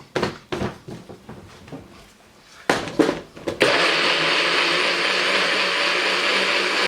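Amba sauce being mixed with Dijon mustard: a few scraping, clattering stirs, then a loud steady motorized whir, like a blender running continuously to the end.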